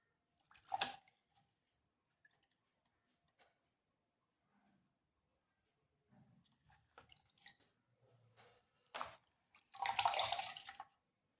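Scattered splashes of water, with a short quiet stretch, then a louder burst of splashing and dripping near the end; no speech.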